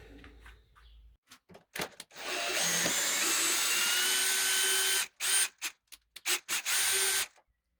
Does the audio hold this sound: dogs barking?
no